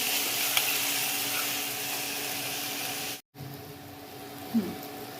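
Coarse chili mixture sizzles loudly and steadily as it is stirred and fried in hot oil in a pan for a Maharashtrian pithla. The hiss cuts out briefly and then resumes more quietly.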